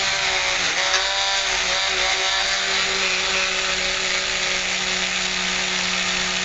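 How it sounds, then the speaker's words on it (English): A polishing wheel spins against the chamber throat of a pistol barrel, giving a continuous, loud, steady high-speed whir with a slight grinding edge and no break the whole way through. "we're just polishing the side of the barrel, or the side of the throat of the chamber as well."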